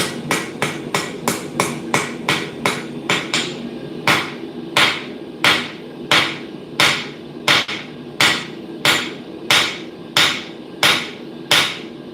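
A blacksmith's hammer strikes metal in a steady, ringing rhythm, about twenty loud close blows. They come fast at first and then slow to evenly spaced strikes, with no voices.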